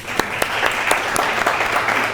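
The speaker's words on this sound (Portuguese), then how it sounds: "Salva de palmas para o nosso esforço." An audience applauds at the close of a talk, with dense, steady clapping from many hands filling the room at moderate loudness.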